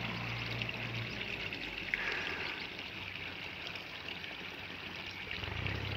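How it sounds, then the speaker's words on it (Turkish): Water from village fountains at Beşpınar village in Vezirköprü, Samsun, flowing and splashing in a steady, full rush close by, continuous and unbroken. "Bakın arkadaşlar, güldür güldür akıyor çeşmelerimiz."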